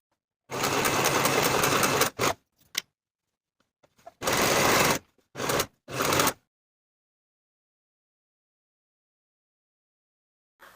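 A sewing machine finishes the seam allowance edges on a summer jumpsuit bodice, running in two loud bursts of about one and a half and two seconds, each followed by a few short stitching spurts, then silence.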